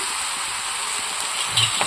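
Spices for a banana-flower curry sizzle and fry in a wok, a steady bright hiss with soft stirring scrapes near the end, close and continuous with no talk.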